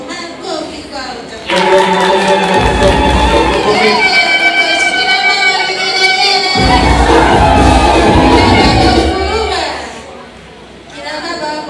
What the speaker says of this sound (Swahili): Makofi kwao